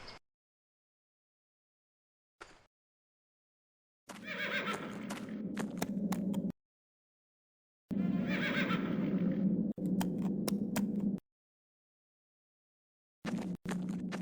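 Horses in a stable from the 2003 PC game The Black Mirror neigh and whinny in two long bursts with clip-clop sounds, separated by silence, plus short bursts at the start and end.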